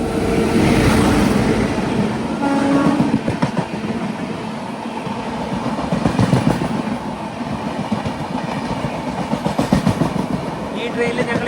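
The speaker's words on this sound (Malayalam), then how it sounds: "ജാംനഗർ തിരുനെൽവേലി എക്സ്പ്രസ് ഇതാ കടന്നു വരികയാണ്." Jamnagar Tirunelveli Express passing close by with loud rumbling wheels and rhythmic clickety-clack from its railcars, steady throughout with a faint voice beneath.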